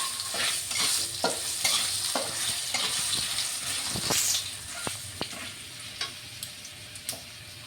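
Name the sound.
potatoes frying in hot oil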